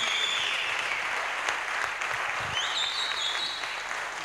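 A press conference audience applauds the founders in steady, dense clapping that holds for several seconds, with a faint voice rising briefly near the end.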